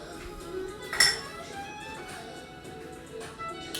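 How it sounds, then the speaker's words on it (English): A spoon clinks against a bowl while pimenton aioli gets a quick stir, a few light chinks and one sharper ring near the start, soft and close in a quiet kitchen. "You have your pimenton aioli there. Give it a nice quick little stir."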